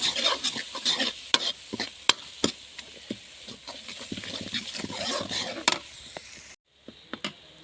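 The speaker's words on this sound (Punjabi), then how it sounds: "ਹੁਣ 1-2 ਮਿੰਟ ਲਈ ਆਪਾਂ ਟਮਾਟਰਾਂ ਨੂੰ ਭੁੰਨਾਂਗੇ ਇਸ ਤਰ੍ਹਾਂ" Tomatoes are stirred and roasted in a pan of fried spice masala. A spatula scrapes and clicks against the pan in an irregular rhythm over a soft, steady sizzle, close and moderately loud, ending with a short pause and a few last taps.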